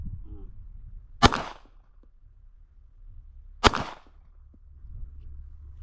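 Two sharp, loud pistol shots ring out about two and a half seconds apart during weak-hand shooting practice at an outdoor range, with quiet background between them.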